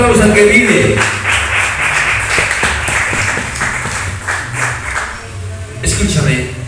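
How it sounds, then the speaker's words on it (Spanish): Church congregation applauding together after a call from the pulpit, a steady wash of clapping that holds for the whole stretch, with voices mixed in underneath. "dale un fuerte aplauso al que vive"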